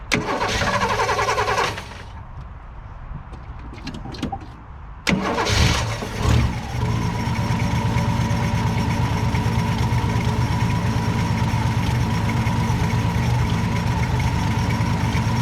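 An abandoned old Ford, a 1962 Falcon or 1967 Galaxie, cranks roughly, falters, catches and then settles into a loud, steady idle that carries on alone, close up.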